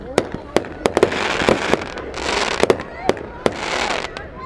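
Firecrackers and fireworks burst outdoors at a New Year celebration in the USA, sharp loud bangs in an irregular series over crackling hiss, with people talking in the background.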